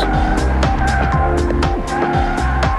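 A heavy 2.1-ton Mercedes S600 works through a slalom cone course, its engine note rising and falling steadily with loud, close revving throughout and possible tire scrub on the turns.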